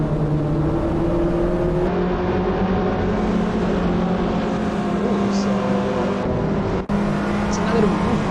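Race cars in a sim racing game at Tsukuba Circuit, several engines droning and shifting pitch together as cars run close and overtake, a steady dense engine bed throughout.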